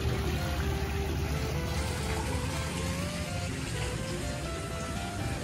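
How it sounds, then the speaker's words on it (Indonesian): Steady trickling water runs at a hotel, a continuous soft splashing wash with no pauses and no voices over it. "Suara gemericik air ini yang bikin suasana tenang dari semalam sampai pagi ini."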